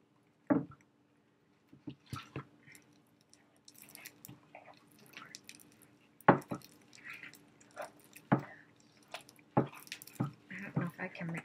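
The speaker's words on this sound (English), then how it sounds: "I think I can mix it with my hands." Gooey baking-soda slime is squeezed and mixed by hand, making intermittent wet squelches and sticky pops up close, with short gaps of quiet between them.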